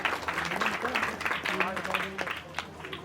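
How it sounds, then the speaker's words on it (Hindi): An audience claps at a community felicitation ceremony honoring donors in Chanoud, with scattered applause running beneath an amplified announcer's voice. "एक बार जोरदार तालियां"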